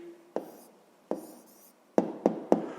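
A pen writes a math answer on paper in short scratchy strokes. Five distinct taps and scribbles come close up with pauses between them.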